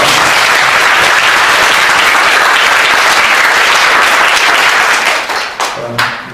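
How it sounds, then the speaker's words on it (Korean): A protest crowd applauds the drummers in loud, dense, continuous clapping, close and sustained, thinning out near the end. "우리 고수 25분께 먼저 감사의 박수를 드리겠습니다"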